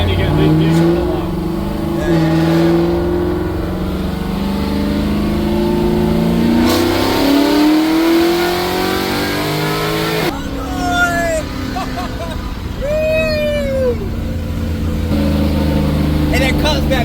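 A big-block Chevy Nova engine rumbles and revs hard during a ride, pitch climbing through repeated pulls with deep, loud exhaust, while people talk over it inside the car.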